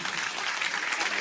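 Audience applause at a Punjabi association event, a short burst of dense, steady clapping from a crowd.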